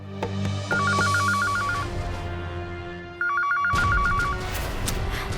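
A telephone rings unanswered in two warbling bursts of repeated electronic trills, separated by a short gap, over a low background of music.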